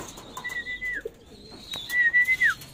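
A racing pigeon arriving at its loft in Currimao, Ilocos Norte, gives two soft, rising-and-falling cooing calls, fairly close and clear over quiet surroundings with no talk.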